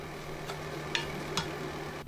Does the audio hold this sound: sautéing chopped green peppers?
yes